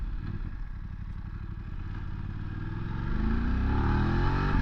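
A Voge adventure motorcycle, a DS800X Rally or DS900X, accelerates nearby, its engine note climbing steadily in pitch and swelling louder toward the end as revs build, with no speech.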